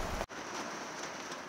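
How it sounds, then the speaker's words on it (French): Steady rain falls, a soft continuous hiss of drops on an outdoor surface in grey weather, with a brief dropout near the start and no voices. "Et là j'attends qu'il arrête de pleuvoir"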